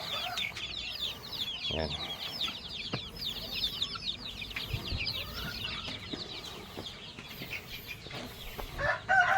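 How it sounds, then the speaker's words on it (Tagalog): Chickens and chicks on a Philippine farm cluck and cheep continuously, a busy chorus of high peeping with occasional clucks, while a voice speaks briefly. "Dami natin mga sisiw, oh."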